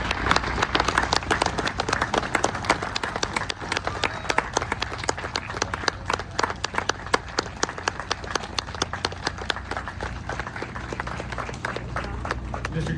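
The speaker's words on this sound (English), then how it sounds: "Let's give another round of applause." An audience claps steadily after a Memorial Day speech in Grand Prairie, Texas, a dense sustained round of applause lasting the whole stretch, close and even in loudness.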